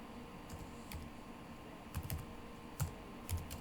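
Computer keyboard being typed on at close range, quiet scattered clicks coming in short bursts with pauses between them.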